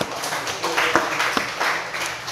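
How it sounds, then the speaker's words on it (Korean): Church congregation clapping at a Sunday service to welcome a returning member back, a scattered round of hand claps filling the room at moderate loudness. "우리 박수로 환영하겠습니다"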